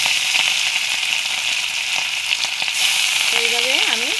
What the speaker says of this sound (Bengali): দেখো, কড়াইতে তেল দিয়েছি, একটু সময় হয়ে গেছে, একদম ধোয়া উঠছে। আর আমি দিয়ে দিচ্ছি মাছ।